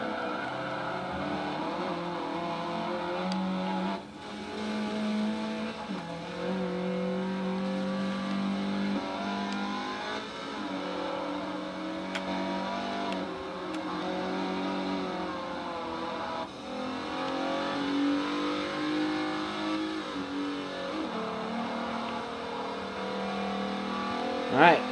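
Race cars lapping a track during a race, engines droning and revving continuously at a moderate distance, with shifting pitches as cars pass, under a steady stream of commentary.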